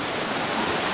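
River water rushing loudly and steadily in Lynn Canyon Park, North Vancouver, heard from out in the middle of the river as a dense, continuous broadband roar with no pauses.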